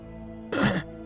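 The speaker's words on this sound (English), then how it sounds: "He coughed." A single short, rough cough from a man in a spoken fan-fiction story set in the Fallout 4 world. It bursts out close and alone over a faint steady hum, lasting about a third of a second.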